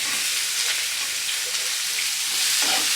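Curry leaves and chopped onion sizzle steadily in hot oil in a pan for garlic coconut upma, a bright continuous hiss with faint stirring scrapes, close and fairly loud with no talk.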